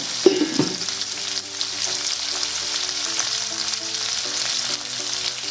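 Green chillies and sliced onions frying in a pan for chicken rogan josh, a loud, close, steady sizzle with stirring scrapes and a clatter near the start, with no voices.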